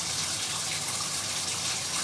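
Shower water running steadily while it heats up, a continuous, even hiss of spray with no breaks or voices.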